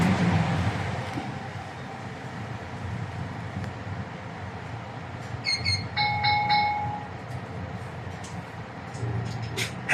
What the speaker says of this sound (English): The largest railway station in the country, located in the heart of the city